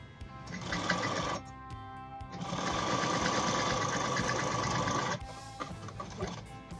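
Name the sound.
sewing machine stitching a pocket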